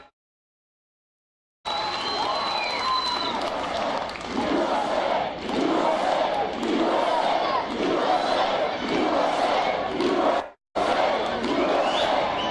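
A large crowd at a Donald Trump rally in Colorado Springs roars and cheers in sustained, swelling waves with rhythmic chanting, loud and full, after an opening silence and broken briefly by a short gap.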